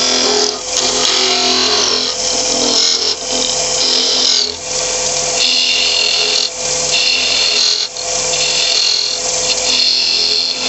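A wood lathe parts off a turned wooden ball, giving a steady, loud scraping and rasping cut with a constant motor hum and brief dips as the tool is eased back, with no talk.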